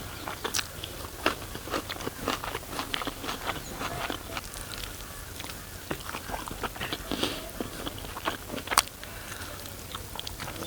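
Raw onion squeezed with lemon juice being bitten and chewed, giving crisp, irregular crunching bites up close over a faint background, with no talking.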